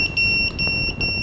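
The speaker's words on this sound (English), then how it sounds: "we get that beep on the copter saying we have no receiver strength" A quadcopter's onboard buzzer sounds a rapid series of short, shrill electronic beeps, close and clear, warning that the receiver has lost its signal.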